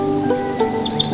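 Birds calling in a zoo aviary holding parrots and cockatoos, with a few short, bright chirps rising near the end over a steady murmur of background noise.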